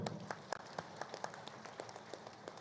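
Audience at a Patriji Dhyana Mahayagam meditation gathering applauding, with scattered, moderately quiet claps heard from some distance.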